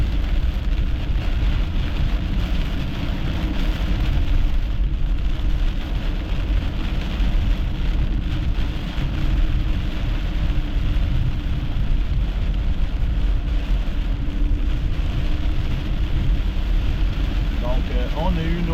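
Steady rain patters on a car during a late-August storm chase near Saint-Hyacinthe, a constant broadband hiss with vehicle rumble beneath, no distinct thunder cracks, and voices talking at times.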